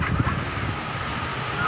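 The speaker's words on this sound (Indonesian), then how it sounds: "Angin." Wind buffets a microphone on a beach where kites are being flown, giving a steady low rumble with faint surf-like wash underneath and brief louder gusts.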